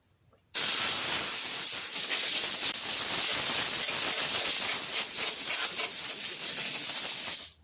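Compressed air blasts steadily off an air compressor head being cleaned, a loud continuous hiss that starts abruptly and holds for about seven seconds before cutting off, with no talking.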